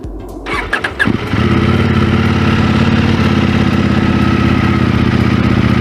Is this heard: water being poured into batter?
no